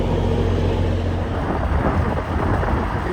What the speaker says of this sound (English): That wind is strong today.